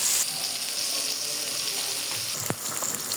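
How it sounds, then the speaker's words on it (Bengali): Tilapia fish frying in hot oil gives a steady, close hiss and crackle that holds evenly from start to end, with one brief utensil clink near the end. "এবার তেলটা গরম হয়ে গেছে, এবার মাছটা তেলে ভেজে নেব সুন্দর করে।"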